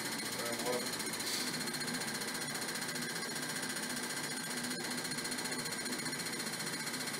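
A motorcycle fuel injector tester runs its test cycle, giving off a steady rapid mechanical ticking and buzzing that continues unbroken for several seconds with no speech over it.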